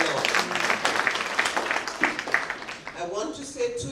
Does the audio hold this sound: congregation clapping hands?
yes